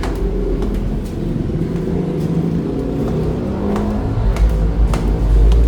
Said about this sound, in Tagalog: Ito yung motor kuya.